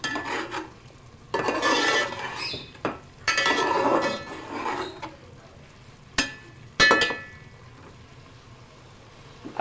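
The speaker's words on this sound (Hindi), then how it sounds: "गरम मसाला ऐड करने के बाद अब हम इसको मिक्स करेंगे" Spiced rice with garam masala and mustard seeds is stirred in a metal pot for vegetable pulao. A spoon scrapes and clinks against the pot in several bursts, with quiet pauses between them.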